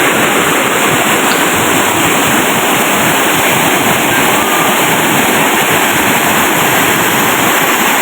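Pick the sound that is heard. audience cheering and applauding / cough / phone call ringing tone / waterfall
waterfall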